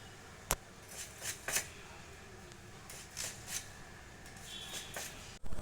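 Knife slicing tender young kakrol, a spiny gourd, into thin lengthwise strips. Soft, sparse cuts come close by with irregular pauses between them, plus one sharp knock at the start and another near the end.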